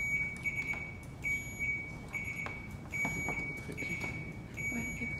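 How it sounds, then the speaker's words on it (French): A quiz buzzer is tested in a quiet hall, giving a string of short, shrill electronic beeps in an uneven rhythm against a low room hum. "je vais vous faire essayer au buzzer pour être sûr que ça fonctionne"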